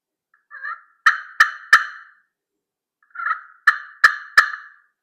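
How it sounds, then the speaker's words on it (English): A slate turkey call gives two sharp series of clucks, each opening with a soft purr followed by three crisp, closely spaced clucks, loud and near in otherwise silent air. "it's a great, sweet sounding little slate call. It's great for soft clucks and purrs."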